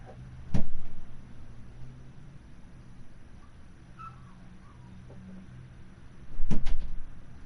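Two sharp thumps of a car door shutting in Car Mechanic Simulator, one early and one near the end, separated by a quiet stretch of low garage hum.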